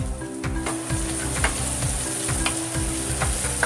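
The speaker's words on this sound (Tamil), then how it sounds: "நல்லா ஃப்ரை ஆகணும்" Vegetables including mushroom and capsicum fry in a pan for a vegetarian biryani, giving a steady, close sizzle with a rhythmic mechanical clatter underneath throughout.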